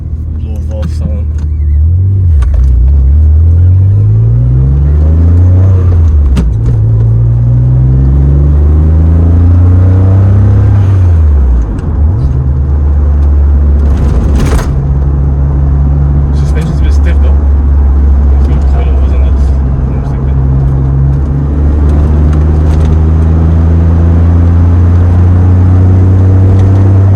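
A 1992 Mitsubishi GTO Twin Turbo with a 2972cc V6 drives along, its low engine note rising and falling through repeated gear changes and revs, loud and close, with someone talking over it.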